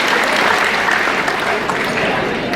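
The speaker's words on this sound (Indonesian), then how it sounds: "Mohon tepuk tangan yang meriah buat beliau." Guests at a school reunion in a hotel ballroom in Padang applaud together, a dense, steady clapping that fills the room for a few seconds.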